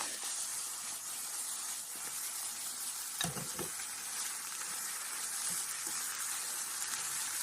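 Cabbage stir-frying with a little oil in a pan, a soft, steady hiss of frying with a few brief stirring clatters in the middle.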